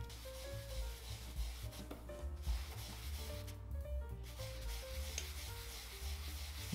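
A sandpaper sponge scrubs across damp skin in quick repeated rubbing strokes, a faint close scratchy texture with no one speaking.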